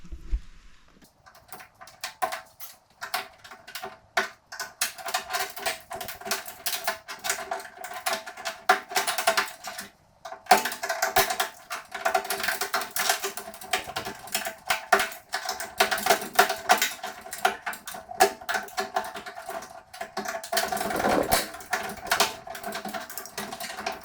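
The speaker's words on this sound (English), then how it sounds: "if you just get a flathead of some sort and pry these out" Trim clips pried out of a Grand Wagoneer side window with a flathead screwdriver give a near, steady run of scraping, clicking and rattling plastic and metal that lasts the whole stretch, with one brief pause partway through.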